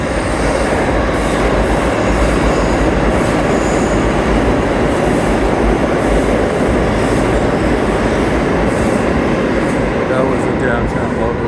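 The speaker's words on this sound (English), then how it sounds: "Downtown local train, what we could see of it" A downtown local subway train passing through a busy junction, loud and close, with constant rumble, clattering wheels and squeals from start to finish.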